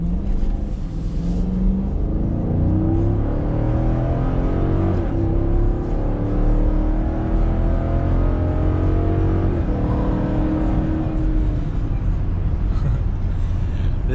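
A car in sport mode accelerates hard from a standstill, its engine note climbing steadily in pitch through the gears over a continuous road roar, close and loud throughout.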